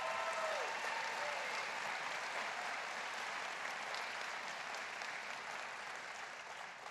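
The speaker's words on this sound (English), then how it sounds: "Give yourselves a big round of applause." Town hall audience applause, a dense, continuous wash of clapping at a distance, steady throughout and fading a little toward the end.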